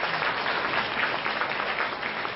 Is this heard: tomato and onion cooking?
no